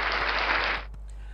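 Burst of applause from a crowd at an Indonesian forex review show, dense and steady for under a second before cutting off into near silence.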